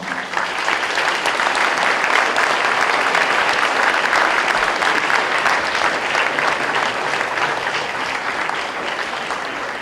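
A school gym audience at a ninth-grade Veterans Day event gives sustained applause to veterans' family members, a dense, even wash of many hands clapping for about ten seconds.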